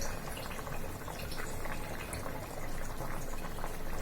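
A pot of vegetable curry with dried shrimp, bean seeds and eggplant cooks down, giving a steady soft bubbling and hissing simmer throughout, fairly quiet and close, with no voices.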